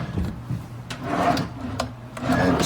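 A wooden drawer in a hotel room slides and scrapes as it is opened and closed, several rubbing, grinding strokes with soft knocks, close and moderately loud, no talking.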